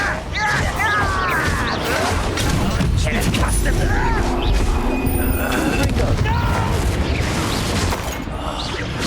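Hogwarts Legacy spell combat with repeated Descendo slams: heavy crashing thuds and booms sounding throughout amid constant game noise and effects, with voices shouting over the action.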